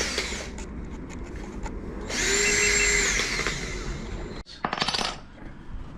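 Cutoff wheel slicing through a rubber tire for a 36V Mustang Power Wheels ride-on: a loud, steady high-pitched grinding whine that holds for about a second and a half, then stops, followed by short clattering bursts.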